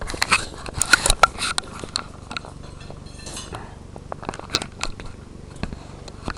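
Close, crisp crunching of Berry Crunch sweetened corn and oat cereal as it is chewed, with clinks of a spoon against a bowl and bursts of crackly bites.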